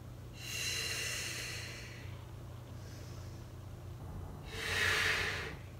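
Two heavy, airy breaths sound close by during a ballet back workout, a long exhale followed by a pause and a second forceful breath.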